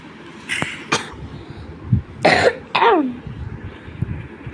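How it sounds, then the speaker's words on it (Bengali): A person with a cold coughs several times in short, sharp bursts, close and fairly loud, with one throat-clearing sound mixed in and no talking. "আমার একটু ঠান্ডা লেগেছে তাই কাশি আসছে"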